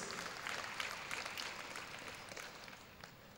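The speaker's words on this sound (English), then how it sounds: "A round of applause for her, please." An audience at a university convocation lecture gives a sustained round of dense clapping, steady and fairly close, with no speech over it.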